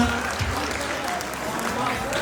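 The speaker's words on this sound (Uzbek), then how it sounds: "Bir qarsak chalib turinglar azizlar." Audience applause at an Uzbek gathering honoring teachers and their apprentices: a steady wash of clapping hands fills the whole moment, with voices faintly mixed in.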